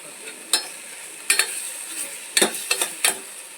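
Vegetables with salt are stirred in a pan for vegetable biryani: a soft, steady sizzle runs underneath while a spatula scrapes and clicks against the pan in a handful of sharp, close strokes.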